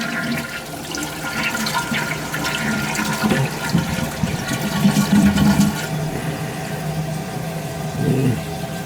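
A running toilet flushes and refills in a home bathroom, a steady rushing of water that swells and gurgles throughout, with no one speaking.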